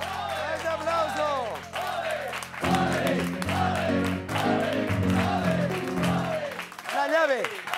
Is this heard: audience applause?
yes